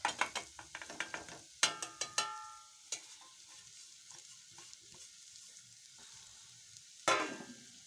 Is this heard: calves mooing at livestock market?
no